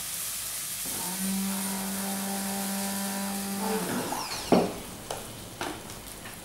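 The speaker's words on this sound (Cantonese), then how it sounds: "然後我就會用呢一個手提攪拌機，頭先講咗咧，去攪佢啦" A handheld stick blender whirs steadily for about three seconds while blending basil pesto, a loud even motor hum that then cuts off, followed by a few clanks and scrapes.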